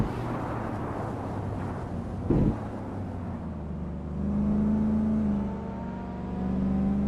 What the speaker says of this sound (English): Bot Matrixco is driving a 1994 Subaru Alcione Civics.